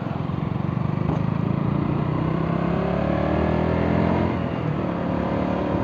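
A motorbike engine running steadily while riding out on a hot day, a loud, close, continuous hum with a faint rise in pitch partway through and no talking.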